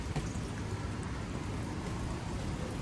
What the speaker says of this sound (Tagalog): Umuulan, malakas ang hangin.